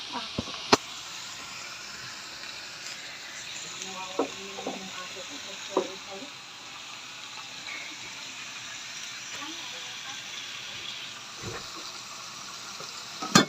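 String beans (sitaw) stir-fried in a crowded pan give a steady, soft sizzle, and a utensil scrapes and clinks against the metal now and then. Faint voices sit in the background.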